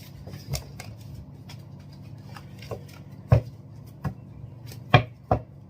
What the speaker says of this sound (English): So I'm gonna shuffle.